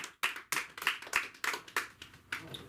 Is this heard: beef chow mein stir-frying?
no